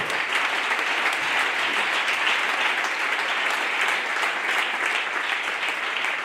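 Sustained applause fills a church service, a dense even wash of clapping from a congregation that stays loud and steady throughout with no pauses.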